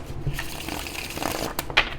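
A deck of tarot cards is shuffled close up, with brisk riffling and soft slapping bursts of card noise, a few quick passes with no voices.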